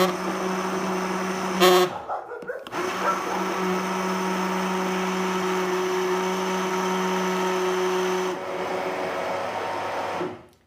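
Immersion blender whirring through squash and chestnut soup in a tilted pan, a loud, steady motor drone that briefly cuts out near the start, then runs on and stops at the end.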